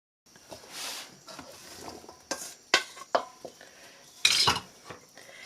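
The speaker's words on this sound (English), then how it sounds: "now we're going to add our potatoes and our carrots." Potatoes and carrots go into a ground beef mixture in a pot, heard as scattered clinks of a utensil against metal, soft thuds and scraping stirs.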